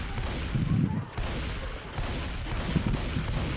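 Gunfire in Left 4 Dead on the Dead Before Dawn addon map, a dense sustained barrage of shots with heavy low rumble, close and loud, without pauses.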